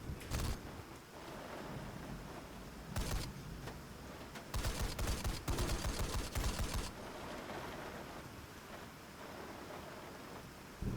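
Heavy gunfire hammering a Striker armored vehicle in a video game, with loud bursts of rapid shots at irregular intervals over constant wind-like rumble and no talk.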